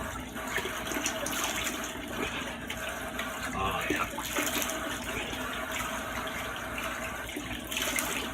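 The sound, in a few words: running cold tap water while shaving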